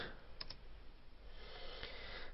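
A command is typed into AutoCAD on a computer keyboard: two quick keystrokes, then a lone third press a moment later, faint against a steady background hiss.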